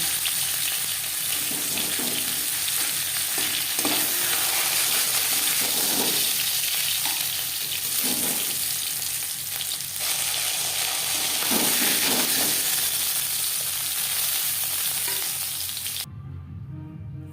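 Fish head frying in a pan of oil, a steady loud sizzle with occasional stirring scrapes, continuous throughout and fading abruptly near the end.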